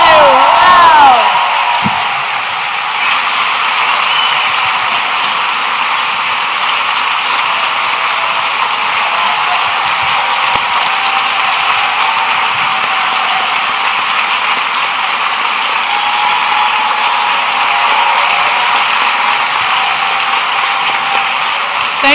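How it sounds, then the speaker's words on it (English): A large conference audience applauds a speaker at the Othering and Belonging gathering, a loud, sustained roar of clapping that holds evenly for over twenty seconds, with a brief voice at the very start. "a round of applause for John A. Powell"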